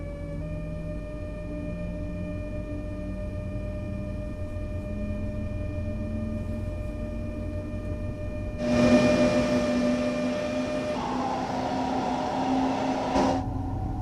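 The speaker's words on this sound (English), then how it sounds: "As the train accelerates" A train in Train Sim World 5 pulls away under power: a steady low motor hum with sustained tonal whines, then a louder surge of broadband rumble as it gathers speed, with no voices.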